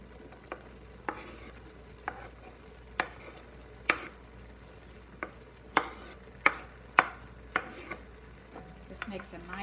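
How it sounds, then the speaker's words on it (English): A wooden spoon stirs a pot of ham, potato and corn chowder with cream cheese, giving soft scraping swirls and a dozen or so sharp knocks against the pot, fairly quiet and close with no talking. "I'm going to go ahead and give that a stir with my wooden spoon."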